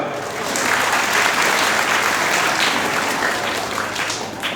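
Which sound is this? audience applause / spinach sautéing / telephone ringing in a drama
audience applause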